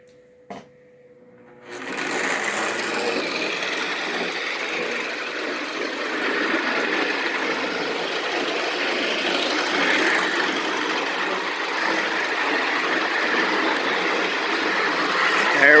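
An O gauge model train runs around the inner and outer loops of a home layout, a steady mechanical whir and rumble that starts after a brief click and continues evenly, slowly building in level.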